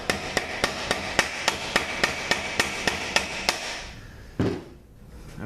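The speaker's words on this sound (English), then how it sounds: "See if we give it a couple of taps." Sharp hammer taps strike a VW 010 automatic transmission that slips in reverse, about fifteen evenly spaced metallic knocks in quick rhythm, close and fairly loud, followed by a brief scrape and quiet.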